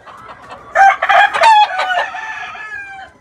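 A Cowan rooster kept with two Cowan hens crows loudly and close by, one long rising and falling call that fades out at the end.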